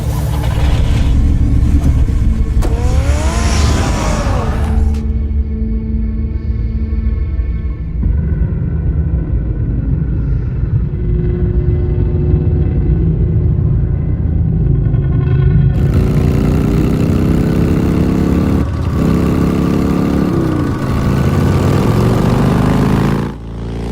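Car engine revving in the Batman Telltale video game, a loud sustained rumble with rising and falling pitch sweeps that swell and ease back across the stretch, with no talk over it.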